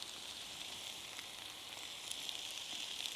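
Soft, continuous sizzle of mixed vegetables such as cucumber and cauliflower being sautéed in a pan, faint and steady with light crackles rising slightly toward the end.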